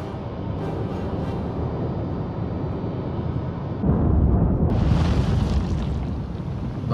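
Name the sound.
torpedo explosions hitting a ship in War on the Sea video game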